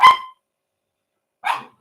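A large dog barks indoors, two sharp close barks separated by a second and a half of silence.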